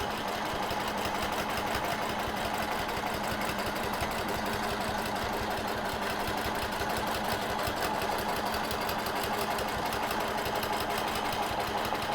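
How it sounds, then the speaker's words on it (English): A sewing machine quilts a fabric border guided by a nested circle ruler, its needle hammering in a fast, steady mechanical rhythm close by with no pauses. "so I'm just going to quilt around."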